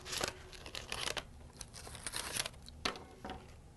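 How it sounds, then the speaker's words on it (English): Sublimation transfer paper is peeled and crinkled off a hot ceramic shot glass just out of an oven mug wrap, giving short papery tearing and rustling bursts close to the microphone. "Let's peel back on our transfer."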